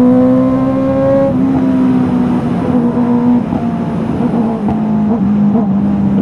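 A 2023 Honda CB650R motorcycle engine revs with the throttle, a loud close tone that climbs and dips through several pulls, its harmonic pitch shifting with each rev and holding a steady idle between.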